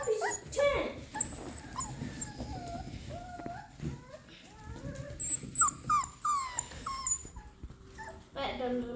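Rottweiler puppies whimper and yip in a run of high, wavering cries, close and fairly loud, with brief overlapping whines and occasional quieter voices in the background.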